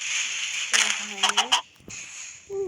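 Chickens in the video game Minecraft cluck in a few short, close bursts over a steady background hum, with a brief gap of near quiet before a faint last call.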